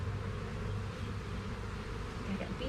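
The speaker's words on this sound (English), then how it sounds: "I got bees sitting all over me." Dense buzzing of honeybees swarming around an open beehive while a beekeeper inspects brood frames, a continuous close hum filling the whole moment with no talking.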